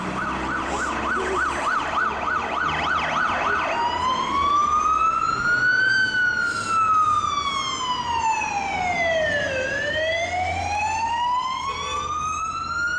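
Sirens from police cars and fire engines spraying disinfectant outside a hospital in Aceh: a rapid yelp gives way to long rising-and-falling wails, loud and continuous with a low vehicle rumble underneath.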